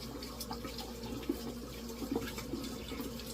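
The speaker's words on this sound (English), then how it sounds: "you have to wash your hands" Tap water runs steadily into a sink as hands are washed after making pumpkin dumplings, with soft splashes over a low background hum.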